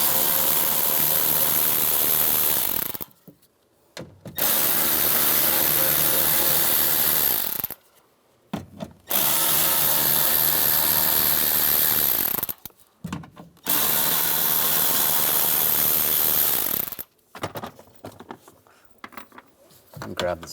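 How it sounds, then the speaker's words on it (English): A power tool with a 7mm socket drives screws out of a Ford Explorer door speaker mount in four long whirring runs of about four seconds each, separated by short pauses, loud and close. "using a 7mm socket, take all the screws out"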